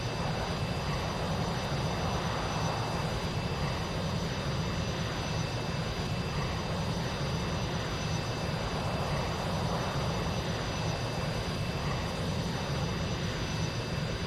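Steady broadband drone of an airplane on final approach in a flight simulator game, continuous and even in loudness, with faint high tonal whine lines running throughout and no talking.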